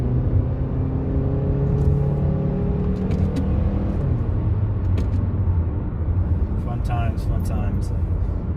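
A 2009 Honda Accord interior drone with a falling engine tone and road rumble, plus scattered light clicks and knocks; steady and close throughout.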